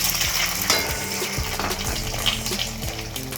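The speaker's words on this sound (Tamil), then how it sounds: "முதலாவது நம்ம முட்டையை நல்லா வதக்கி எடுத்துக்கிறோம்" Two eggs sautéing in oil in a pan for kothu chapati give a steady, close frying hiss, with a low droning hum running underneath.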